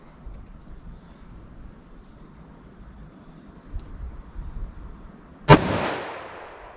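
A short-barreled .357 Magnum handgun loaded with Winchester 145-grain Silvertip ammunition fires a single loud, sharp shot with a long ringing tail, after several seconds of quiet outdoor background.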